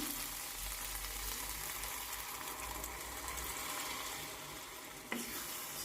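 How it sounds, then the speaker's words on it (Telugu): Tomato paste sizzles softly in a pan as tamarind juice is poured in for egg and okra pulusu, a faint, steady frying hiss with a brief splash near the end. "ఇప్పుడు దీంట్లోకి చింతపండు పులుసు వేసేస్తున్నాను"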